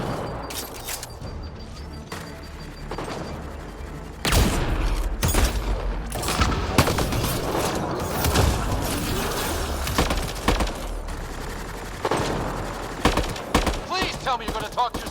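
Turret gunfire in Mass Effect: Andromeda, rapid bursts of sharp shots and impacts that keep rising and falling, with voices speaking over the combat at times.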